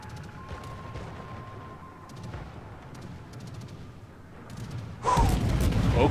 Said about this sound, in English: I'm trying to get some shots out on the Ranger, long-range shots.